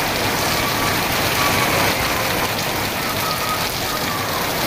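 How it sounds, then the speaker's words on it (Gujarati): Heavy downpour with strong wind in Bodeli, a steady dense roar of rain pounding surfaces throughout, loud and constant with no talk. "ભારે પવન ફૂંકાઈ રહ્યો છે અને તેજ ગતિ સાથે આ ધોધમાર વરસાદ છે તે વરસી રહ્યો છે."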